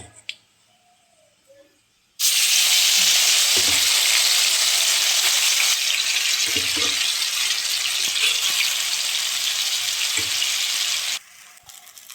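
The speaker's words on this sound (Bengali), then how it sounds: "এই কালো জিরের ভিতরে আমরা এখন এই কচু বাটাটা দিয়ে দেব" Mashed taro hits hot oil tempered with black cumin, bursting into a loud, dense sizzle that holds steady for about nine seconds with occasional stirring clinks, then cuts off abruptly.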